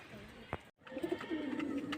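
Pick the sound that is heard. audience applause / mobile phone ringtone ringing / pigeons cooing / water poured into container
pigeons cooing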